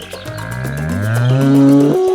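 Cow from an animated children's story about the gingerbread man, a single long, drawn-out moo that rises and swells in loudness, close and clear with no talking.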